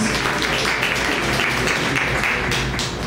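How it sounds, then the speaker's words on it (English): An audience applauds at a community event, dense continuous clapping filling the room for a few seconds at a steady level, with faint voices mixed underneath. "please give a round of applause to Kuda"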